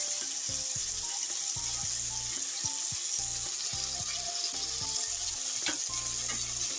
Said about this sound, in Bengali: এবার আদা রসুন বাটা দিয়ে দেবো 2 চামচ।